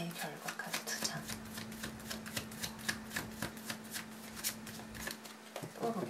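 Tarot cards are shuffled by hand in a quick, continuous riffle of papery flicks and slaps, close to the listener, with a voice speaking over it and a faint steady hum underneath.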